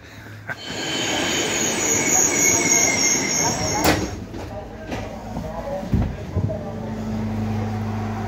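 A train heard from inside a carriage, with steady rail rumble, sharp wheel squeals and intermittent clacks over the tracks, and some faint background voices.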